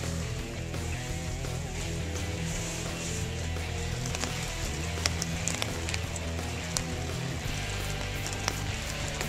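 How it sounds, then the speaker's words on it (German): Steady rain falls continuously with dense patter and occasional sharper drips, a constant wash of noise with a low rumble underneath. "Es regnet und regnet und regnet."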